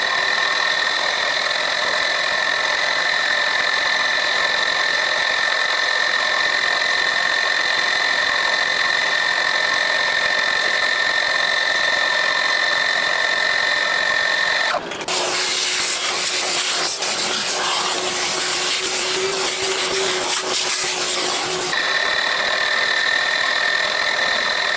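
A lathe cuts chamfers on a workpiece with a constant whining motor hum and a loud, harsh cutting hiss that swells for several seconds midway, then drops back to the steady machine drone.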